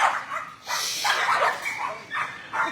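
Several dogs bark and yip from kennels in an animal shelter, a loud overlapping run of barks with short pauses, echoing in the enclosed space.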